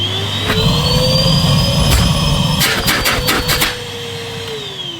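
A worn, neglected Henry Pet vacuum cleaner runs steadily with a loud motor whine and airy roar, a brief rattling of debris being sucked up midway, and the motor pitch shifting slightly as it continues.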